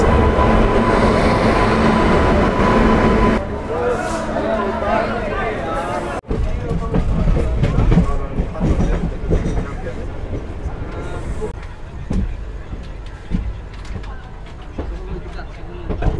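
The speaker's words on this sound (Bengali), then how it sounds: "এই চলে আসলো আমাদের গাড়ি তিস্তা তোরসা এক্সপ্রেস" A Teesta Torsa Express passenger train pulls into a platform at New Jalpaiguri station, a loud rumbling approach with rolling wheel noise and clatter that continues steadily, mixed with busy station ambience.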